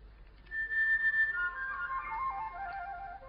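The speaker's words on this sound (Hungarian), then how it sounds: "És itt a vérigó. Uh-huh. Fütyül még." A clear, fluting whistle from a Eurasian blackbird slides downward in a short melodic phrase over faint background hum.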